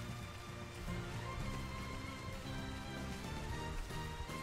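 Steady rain falls in the video game Xenoblade Chronicles, a constant even hiss of drops with no talk over it, filling the whole stretch.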